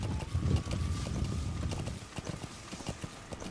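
Horse hooves clip-clop at a steady riding pace in Metal Gear Solid V, the dense thudding patter loud and close, with a faint mechanical ratcheting alongside and the gait thinning out toward the end.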